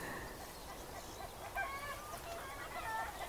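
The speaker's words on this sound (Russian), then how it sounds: "И курочки кричат." Hens in a village in Asturias in spring cluck faintly and intermittently from a distance over quiet outdoor ambience.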